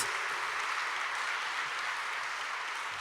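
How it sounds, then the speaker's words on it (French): Dense, steady applause from a large crowd at the Truck of the Year and Van of the Year 2016 awards ceremony fills the whole stretch, evenly loud with no pauses or voices. "Monsieur Gianenrico Griffini, s'il vous plaît, qu'on applaudit, le président du jury"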